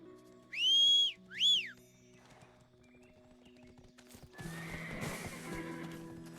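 A horse in the video game Black Desert gives two loud, rising whinnies in quick succession. After a quieter pause, clopping hoofbeats break into a steady gallop with a busy background.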